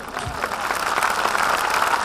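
Audience applause at a motivational sales speech, a short burst of dense, steady clapping from a large crowd filling the whole moment.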